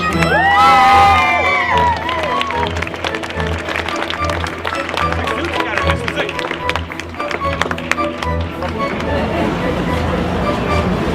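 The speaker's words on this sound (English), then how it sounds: "a big cheer for the intermediates" A big crowd cheer for the intermediates at a Dewsbury community event: loud whoops and children's shrieks burst out at the start, then settle into a sustained roar of cheering and shouting that continues throughout.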